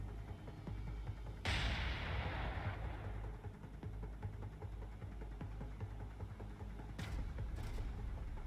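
Naval artillery from the USS Alabama in War on the Sea: a deep heavy boom rolls out and decays, followed by further distant thuds over a low steady rumble and hum.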